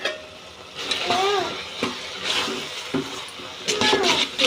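Spoon stirring turmeric, coriander, cumin and homemade garam masala powders in a pan, with scraping and light sizzling in a home kitchen, interrupted by a few brief louder scrapes, with voices faintly in the background.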